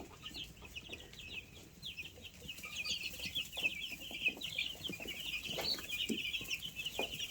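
Freedom Ranger meat chickens about two weeks old, kept in a homemade mobile pen and a dog cage, cluck and peep continuously at close range. A dense, busy chatter of many birds runs with no voices.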